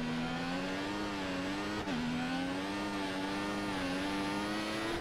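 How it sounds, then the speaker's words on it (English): A Formula 1 turbo engine in the game F1 2014 drones loudly and steadily, its pitch rising and falling slightly with a brief dip partway through, with no talking. "Here, listen to the engine."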